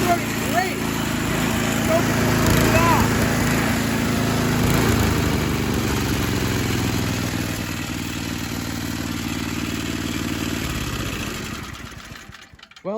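A Toro snowblower engine runs loud and close, a steady rattling small-engine drone that holds for most of the stretch before winding down and stopping near the end.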